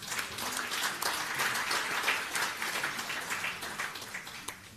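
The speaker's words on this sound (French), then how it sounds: "Je pense qu'on peut applaudir Albéric Marcelin." An audience at a training workshop on major risks claps in a soft, dense patter that holds steady and then thins out toward the end, faint and somewhat distant.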